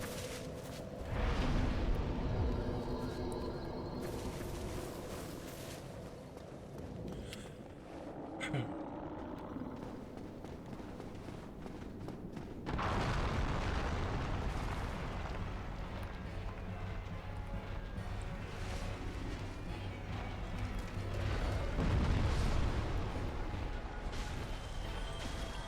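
A boss in Dark Souls Remastered brings its weapon down in a heavy slam, giving a loud crashing impact with a rumbling tail, then a second surge of noise later, over continuous game ambience.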